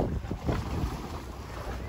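Strong sea waves around a boat off San Isidro, Northern Samar, heard as a constant roar of water and wind buffeting the microphone, with surges of splashing and no clear speech.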